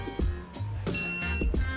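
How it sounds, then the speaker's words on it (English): Short electronic beeps from a torque wrench reaching its set torque while bolts are tightened during a GTR engine build, thin high tones sounding over a low background hum. "So when it beeps, that means it went to the appropriate torque."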